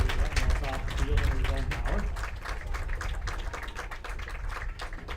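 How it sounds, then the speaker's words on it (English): Crowd at a football game applauding as an injured player walks off under his own power, a broad steady wash of clapping under continuous commentary talk throughout. "Good round of applause here from the crowd"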